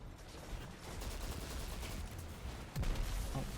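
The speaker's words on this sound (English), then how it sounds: "You can just see the amount of explosions we're causing with this." Arc Titan build in Destiny 2 firing into enemy hordes, producing a dense continuous barrage of gunfire and explosions with a sharper, louder blast near the end.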